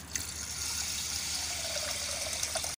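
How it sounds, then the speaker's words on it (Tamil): Water poured from a small vessel into horse gram lentils for cooking, a steady close trickling and splashing stream that runs continuously for a few seconds, then stops abruptly, with no talk. "இப்போ தண்ணி ஒரு சொம்பு சேர்த்துருக்கேங்க."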